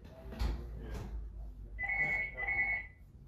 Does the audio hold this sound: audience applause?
no